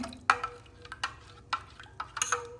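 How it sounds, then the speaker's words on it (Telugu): A spoon stirs a milk mixture for a summer drink in a vessel, giving several sharp clinks and taps against the sides in an irregular rhythm, close and fairly quiet. "ఇదంతా మిక్స్ చేసుకుందాం మంచిగా బాగా."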